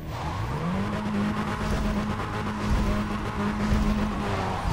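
Audi A3 3.2 Quattro racing in Need for Speed World, a sustained engine drone with a rising then steady pitch and tire squeal from skidding, loud and continuous.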